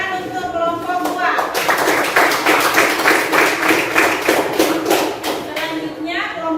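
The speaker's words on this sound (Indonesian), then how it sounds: "Oke, tepuk tangan untuk kelompok 2." A classroom group claps for group 2 in a spring physics lesson, a short burst of lively applause lasting several seconds, with a teacher's voice talking before and around it.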